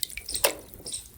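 A toy vehicle is dunked and washed in water, giving a few light splashes and drips, quiet and close, with no talking.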